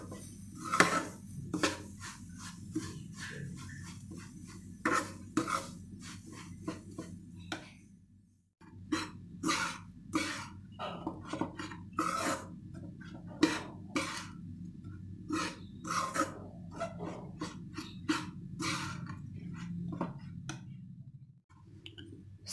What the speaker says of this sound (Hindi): इस सूजी को हमें धीमे धीमे आंच में भूनना है,